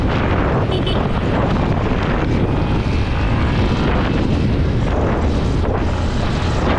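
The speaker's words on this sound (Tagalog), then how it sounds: "Ang bigat na nito, ang lakas ng hangin." Strong wind buffeting a rider on a moving motorbike, a loud, dense, continuous roar of gusting air that dominates the whole stretch with no clear voices over it.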